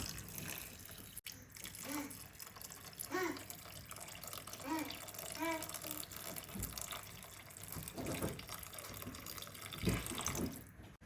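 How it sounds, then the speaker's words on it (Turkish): Meat broth poured from above over buckwheat in a pot, a continuous close gushing and splashing of liquid, with a few faint voiced sounds mixed in. "etin suyunu üzerine tökürəm"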